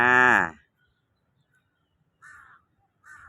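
A crow caws loudly nearby in Lumpini Park, Bangkok, then after a pause two shorter, fainter caws follow, with quiet in between.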